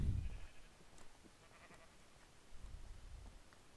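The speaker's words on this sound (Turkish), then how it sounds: "Koyun" Faint Minecraft sheep bleats over low game background noise, a few soft calls spread across the moment with no talking.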